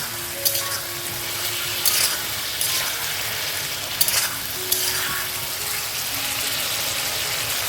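Potatoes and squash frying in a pan with water added, a steady sizzle broken by several stirring scrapes and clinks of a spoon against the pan, close and with no talking.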